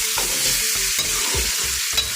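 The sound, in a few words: chicken frying in ghee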